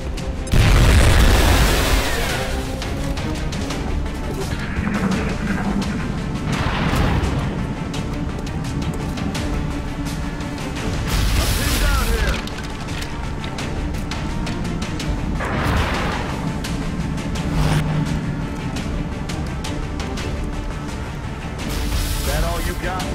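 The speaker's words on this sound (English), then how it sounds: "Throwing grenade." Grenade blasts in a video game boom out in heavy, deep bursts, several of them spread across the stretch amid crashes and rumble, with voices speaking over the action.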